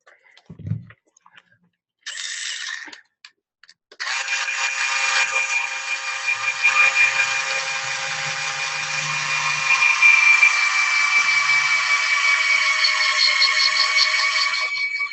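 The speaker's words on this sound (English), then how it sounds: "I think Todd went to get me a power drill" A power drill drives bolts into an arm body during assembly, running as one long, steady, loud high-torque whine after a few short clicks and pauses, with no voices over it.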